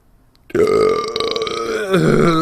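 A voice imitates a long, drawn-out yawn, loud and close, starting suddenly and sliding downward at the end, though it comes out sounding like a burp.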